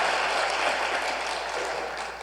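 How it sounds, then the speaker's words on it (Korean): A church congregation applauds during a Sunday worship service, a steady wash of many hands clapping together that fills the whole clip and tapers only slightly at the end. "박수로 한번 격려합시다"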